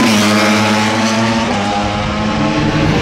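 A Ducati superbike races past the pit wall with a loud, close engine roar. Its high revving whine holds steady and shifts slightly in pitch as the bike passes, and no one speaks over it.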